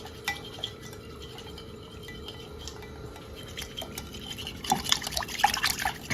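A spoon stirs a garbanzo bean salad in a bowl, giving soft wet sloshing under a faint background hiss, then louder clinks and scrapes near the end.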